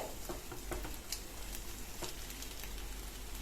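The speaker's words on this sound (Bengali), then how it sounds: "এবার ডিমটাকে এই মশলার সঙ্গে ভালোভাবে একটু ভুজিয়া করে নিতে হবে তবে খুব বেশি কড়া করে ভাজবো না" Egg lightly fried with spices in a pan, a quiet, steady patter of sizzling with small crackles, close by and without talk.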